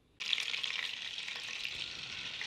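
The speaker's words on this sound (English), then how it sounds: "you can hear the sizzling. I have a stick of butter in here with some olive oil." A stick of butter with olive oil sizzling in a Dutch oven, a steady loud crackling hiss that starts abruptly and continues without talk.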